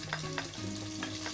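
Garlic frying in a pan for beef rendang, a steady close sizzle with light stirring scrapes, no voices.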